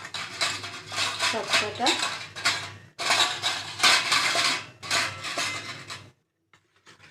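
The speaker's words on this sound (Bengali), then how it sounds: "এবার আমি মেখে নেব" Semolina pitha batter beaten in a bowl with a spoon, a rapid, continuous clatter of metal against the bowl in bursts that stop abruptly near the end; a brief word is spoken.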